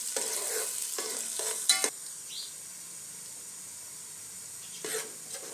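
Onions frying until golden for beef aloo keema, a gentle sizzle with a few quick spatula scrapes early on, then quieter frying and one more stir near the end, close and alone.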